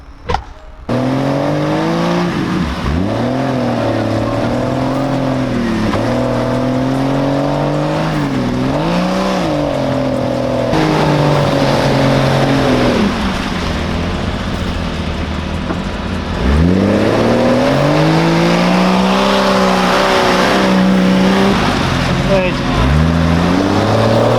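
Jeep XJ or WJ on Maxxis crawler tires driving off-road through mud, its engine revving up and down in repeated surges, close and loud throughout.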